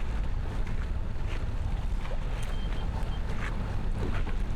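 A sailboat under way off Long Island in light air, with a steady wash of wind and water rushing past the hull, continuous and fairly loud, with no talking.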